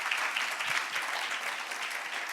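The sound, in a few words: audience applause for conference panelists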